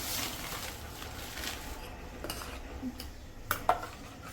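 A spoon clinks and scrapes against a bowl while lemon peel liquid gets mixed with baking soda, soft stirring swishes followed by two sharper metallic taps near the end, close and with no speech.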